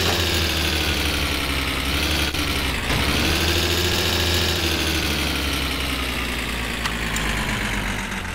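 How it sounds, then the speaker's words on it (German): A car engine runs steadily in the video game My Summer Car, a loud, continuous mechanical drone with rough vibration and a slight dip in pitch partway through, heard alone. "Heute zeige ich euch, wie ihr euren Motor kaputt machen könnt."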